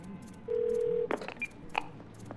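A phone is dialed in the video game Twelve Minutes: a single steady keypad tone about half a second long, followed by a few short clicks and beeps, all fairly quiet.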